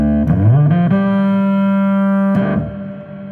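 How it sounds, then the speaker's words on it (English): A distorted electric bass guitar tone through a Boss ME-6B multi-effects processor, with reverb and delay, swells up, holds a long steady note, then drops off into a very long lingering reverb tail. "let's say, a reverb and delay on, and let's throw on a distortion"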